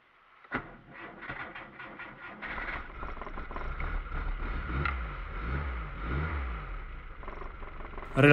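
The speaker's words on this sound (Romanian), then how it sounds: "Relantiul este după pornire de 500 de rotații pe minut" A diesel car engine cranks and catches in freezing cold, then settles into a low, lumpy idle around 500 rpm with a steady rumbling pulse, close by.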